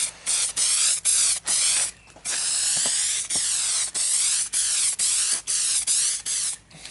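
Gloss clear coat is sprayed onto a BMW E36 drift car's body panel in about ten loud, close hissing bursts separated by short pauses.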